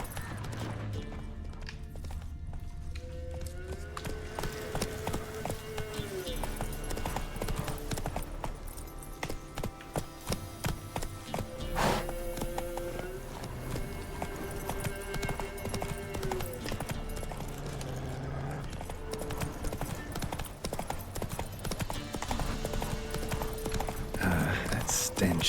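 Horse hooves gallop steadily in The Witcher 3, a continuous rapid clip-clop running throughout over game music, with brief speech and occasional whinny-like sounds.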